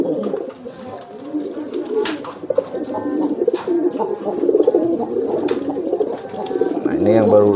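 Domestic pigeons coo repeatedly in a loft where a pair incubates eggs, a low, throaty, rolling murmur running through the whole stretch, fairly close, with a sharper cooing burst near the end.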